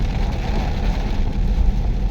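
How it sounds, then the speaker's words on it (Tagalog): Heavy typhoon rain and gusting wind during Typhoon Uwan, a dense, steady roar of rain drumming on a car with strong low rumble throughout, loud and continuous with no talk. "Hangin at tsaka yung ulan malakas na rin."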